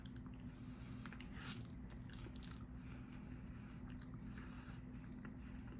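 Someone eats a burrito close up, with quiet bites and soft chewing over a constant low hum in a still room, no talking.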